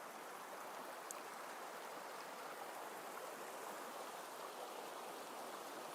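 A small creek flows in a steady, faint wash of water that stays even from start to finish, with no voices.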